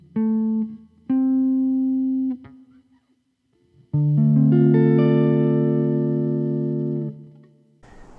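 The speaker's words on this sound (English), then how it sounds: "we will get a minor seventh chord." An electric guitar with effects plays single notes and then strums a sustained minor seventh chord that rings out and fades, close and clear with no talking.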